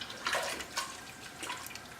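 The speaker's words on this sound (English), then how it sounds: "now that everything's in, we're going to add some water." Water pours in soft, uneven splashing surges into a pot of white bean chicken chili, filling over a couple of seconds, close and moderately quiet with no talking.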